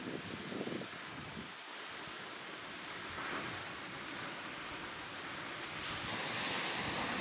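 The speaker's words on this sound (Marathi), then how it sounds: "पाण्याचा आदळण्याचा आवाज वातावरणात भरून राहिला होता." Kalu waterfall in the Sahyadri jungle near Adrai, water crashing down in a steady, broad roar that fills the air without pause, loud and continuous with no voices.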